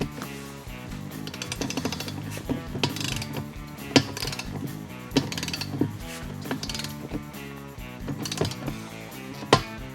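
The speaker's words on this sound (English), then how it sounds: "set your torque wrench to 12 foot-pounds and go ahead and tighten them up in the same cross pattern" Torque wrench and ratcheting tool working through beadlock ring bolts in a cross pattern on a UTV beadlock wheel; repeated mechanical clicks and ratchet bursts sound close and fairly loud over steady clattering background, with no talking.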